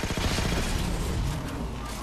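Rapid gunfire in Halo 4 hammers at a core in a dense, continuous burst of shots that stays loud and steady throughout the short stretch, with no voices over it.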